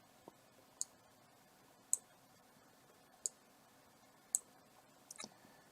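Computer mouse clicks inside 3D hazard-mapping software, about six sharp, isolated clicks spaced roughly a second apart, close and fairly quiet over a faint background hum.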